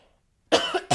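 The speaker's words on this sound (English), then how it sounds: "hold on, I got a cough" A sharp, close cough bursts out twice in quick succession, a long harsh cough followed by a shorter one, after a quiet start with no talking.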